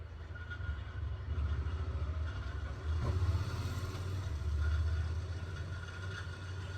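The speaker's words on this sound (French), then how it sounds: "le bruit des voitures et des motos juste derrière" Cars and motorbikes pass on a road just behind a house, a low steady traffic rumble that swells as one vehicle goes by at mid-clip and again later, moderately distant with no talking.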